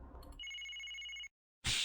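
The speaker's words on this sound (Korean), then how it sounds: "근데 다른 여자 전화가 오나 이거?" A mobile dating simulation game's phone ringtone chimes loudly and steadily with a bright electronic tone, stops abruptly, and is followed by a short burst of noise.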